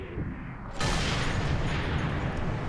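In Sniper Elite 3, a sniper rifle shot hits a fuel barrel: a sudden loud crack after a brief lull, followed by a broad rumbling roar that carries on to the end.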